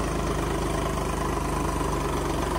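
A tractor engine runs steadily as the vehicle pulls out, a close, loud diesel rumble with an even low pulsing throb and no voices over it.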